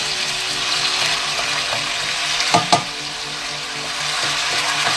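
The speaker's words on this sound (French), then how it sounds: "Donc là on va laisser colorer la viande" Meat and chopped onion frying in oil, a constant hissing sizzle with a couple of brief clatters from stirring midway, and no voices.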